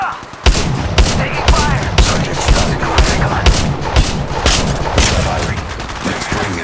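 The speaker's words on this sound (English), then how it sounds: "Second squad is firing at us." Rapid bursts of gunfire in an Apex Legends Mobile squad fight, loud and close, with repeated sharp shots and volleys cracking one after another across the whole stretch.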